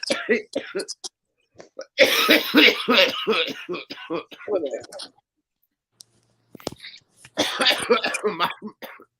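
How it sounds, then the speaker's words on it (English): Someone coughs repeatedly in short raspy bursts, with brief pauses and some throat clearing between them, close to the microphone. "if I'm coughing, say something."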